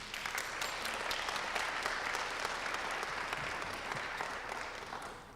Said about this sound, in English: Please give a round of applause to Damari Constable.